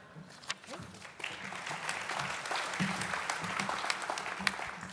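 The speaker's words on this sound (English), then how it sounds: "That's a lot of clapping" Applause from a banquet audience at a school district service pin and retirement event greets the superintendent returning to the podium, starting sparse and swelling into dense, steady clapping across the room.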